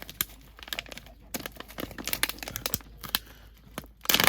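A package of krill amino fishing groundbait is torn open: close, irregular bursts of crinkling and crackling plastic, ending in a louder rustle.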